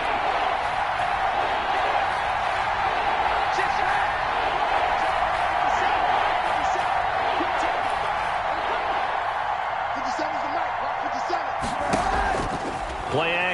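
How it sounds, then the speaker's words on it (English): A football stadium crowd roaring before a big third down in an NFL game, a loud, sustained wash of cheering with a commentator talking over it. "the crowd getting into it as we come up on a big 3rd down"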